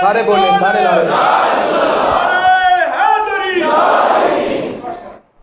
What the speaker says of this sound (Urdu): سارے بولے، سارے نعرے